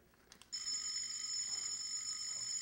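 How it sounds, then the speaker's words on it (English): An old-time radio drama telephone ringing: a steady, bright electric bell tone starting abruptly and sustained, fairly quiet, with no voices over it. "The phone. I'll have to answer it."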